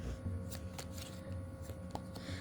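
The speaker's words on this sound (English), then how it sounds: "I'm really terrible at overhand shuffling." Oracle cards are shuffled overhand, with soft repeated riffling and slapping bursts at an uneven rhythm, close and quiet, with no talking.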